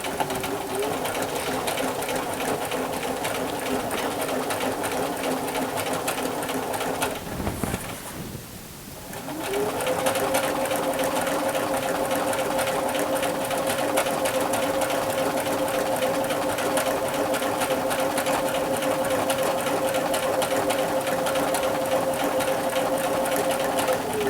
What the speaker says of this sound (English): I'm going to stitch along down my edge.